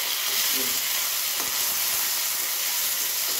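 Ginger and chili paste sizzling and frying steadily in a hot pan for puri and chana dal, a continuous loud hiss with a brief stir near the middle, no talk.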